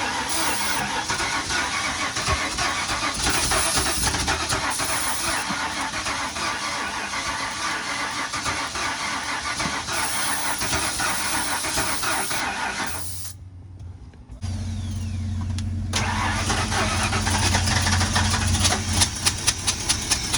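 An OBS-era work truck engine cranks and struggles to catch for a long stretch, harsh and steady, then briefly drops out before grinding back with a rough, uneven tone.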